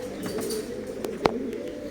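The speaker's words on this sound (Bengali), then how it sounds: "এটা কি কবুতর এটা ব্ল্যাক বিউটি" A Black Beauty fancy pigeon at a breeder's farm gives a short, close coo lasting under two seconds, with a brief sharp note in the middle and a faint ambient hum.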